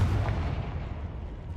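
Confringo spell explosion in Hogwarts Legacy, a single low booming burst that decays quickly, fairly faint.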